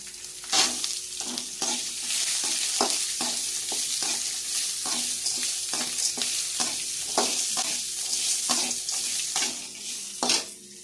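Two finely chopped beetroots frying in a pan for chutney: a continuous hiss of frying punctuated by regular ladle scrapes and taps against the pan, near and steady, without speech.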